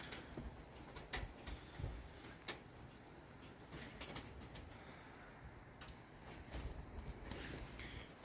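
Young racing pigeons coo softly on race day, low murmuring calls scattered over a steady outdoor background with occasional higher chirps, no talk.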